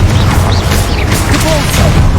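Confringo explosive spell cast repeatedly in Hogwarts Legacy combat, a steady run of booming blasts and crashes over dense low rumble, loud and continuous with no pauses.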